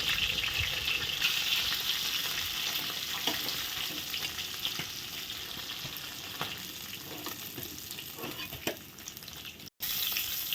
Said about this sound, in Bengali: সবগুলো মাছ ভাজা হয়ে গেছে